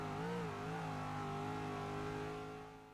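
A GTS Viper race car accelerating hard in Forza Motorsport 6, its engine note loud and steady as it climbs through the revs in one continuous sustained pull, fading slightly at the end.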